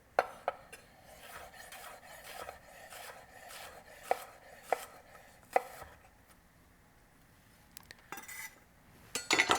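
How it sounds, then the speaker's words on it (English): A knife slicing through an onion on a cutting board, with crisp, evenly paced cuts close by, a pause, then a few final knocks and taps, no talking. "And that is how you slice an onion."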